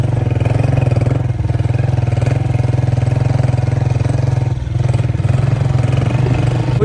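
A motorcycle engine idles loudly and close by after fording water, holding a steady, even mid-pitched throb with a brief dip partway through.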